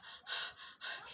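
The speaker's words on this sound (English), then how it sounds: "For broilers, you'll just get to see panting." Heat-stressed broiler chickens pant in quick, raspy breaths, two audible bursts of airy huffing within a second, faint and close.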